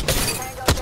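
An enemy's shield breaks in a shooter video game with a loud, sharp glassy shatter, followed by a second crisp burst just before the end.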